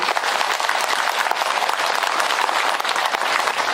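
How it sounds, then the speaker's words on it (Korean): A crowd at an outdoor Buddha's Birthday ceremony applauds loudly and steadily, dense clapping filling the whole stretch without pause. "한번 격려 박수 한번 크게 보냅시다"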